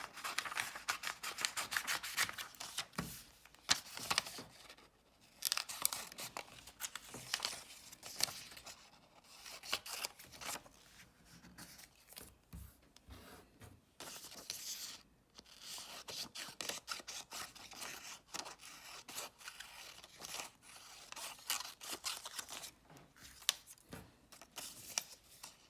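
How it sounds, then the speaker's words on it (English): Scissors cut through a paper packet, giving a run of close, crisp snipping and rustling strokes that keep going with short pauses, and no one talks. "We can cut off the bottom here for our 5 questions."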